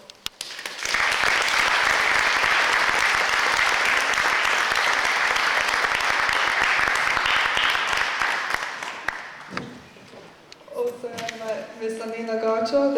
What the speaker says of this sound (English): please reward them all with one more applause